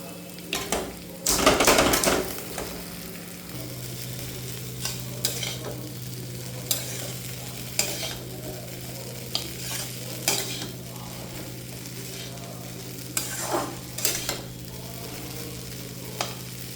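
Egg chicken chowmein being stir-fried in a pan, with a continuous sizzle, a burst of loud hissing early on, then repeated scraping and clinking of a utensil against the metal, close up with no talk.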